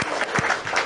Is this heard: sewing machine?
no